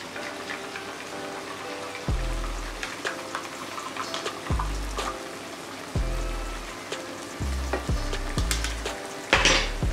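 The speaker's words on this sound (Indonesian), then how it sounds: "Kita aduk kasih rata." Tapioca flour and wheat flour mixed with about 100 ml of water are stirred in a pan, with steady scraping and sizzling texture and several low thumps of the utensil against the pan.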